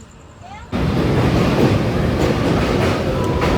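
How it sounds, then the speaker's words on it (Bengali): The Kanchanjungha Express runs through Bidhannagar Road station. A quieter hum bursts abruptly into a loud, close roar of wheels and rattling carriages that holds steady to the end. "আমাদের ট্রেন এখন ক্রস করছে বিধাননগর রোড রেলওয়ে স্টেশন"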